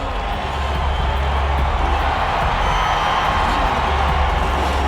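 Crowd cheering and roaring at a 2002 Gravity Games freestyle motocross event, a steady, broad wash of distant voices that swells slightly after the first half second and holds loud throughout.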